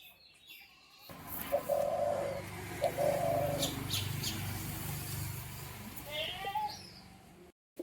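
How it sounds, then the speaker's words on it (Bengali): A pair of Giribaz pigeons coo softly in short, repeated throaty calls over a low rumbling background, fairly close, with a few faint chirps and brief clatter. "দেখুন বন্ধুরা কীরকম মস্তি করছে পায়রা দুটি"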